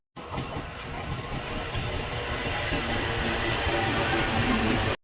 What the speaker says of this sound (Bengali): ডাউনির ট্রেনটা পাস হওয়ার সঙ্গে সঙ্গে কৃষ্ণনগর লোকাল ঢুকলো